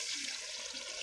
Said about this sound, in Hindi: तो अब ये देखें, मैं इसमें पानी ऐड कर रही हूँ।